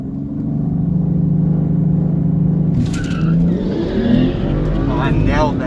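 A car launches hard off the line in a drag race, its engine droning loudly and steadily before rising in pitch as it accelerates, with people talking over the engine noise.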